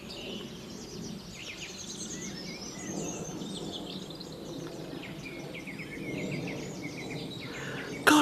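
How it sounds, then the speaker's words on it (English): Spring birdsong fills the air outdoors, many birds chirping and trilling steadily at moderate distance over a soft background hum, continuous throughout with no voices. "isn't it so lovely just to listen to these birds?"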